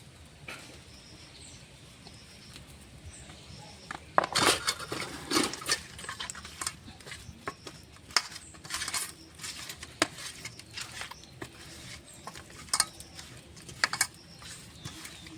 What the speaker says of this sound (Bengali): মাছটা আমি এখন মেখে নেব স্বাদ মতো নুন দিয়ে, হলুদ গুঁড়ো দিয়ে।